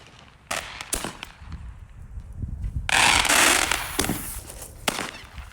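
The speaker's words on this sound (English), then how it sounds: "Let's have a Roman candle war." Roman candles fire outdoors in a string of sharp pops and cracks, several scattered bangs followed by a loud, sustained crackling burst, close and harsh.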